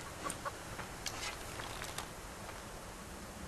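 A chicken in the survival video game Subsistence clucks softly a few times over a faint, steady hiss of outdoor game ambience.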